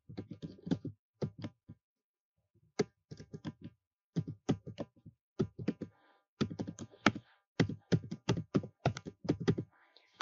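An email address is typed on a computer keyboard in quick bursts of crisp, close key clicks, broken by short pauses, with no voices.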